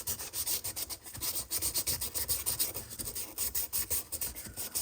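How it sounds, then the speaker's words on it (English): Sandpaper scrubs over a part of a C4 CAP torso concept model kit in quick, continuous back-and-forth strokes, close and steady, with no talking. "you want to get some sandpaper. Make sure you rub around this thing."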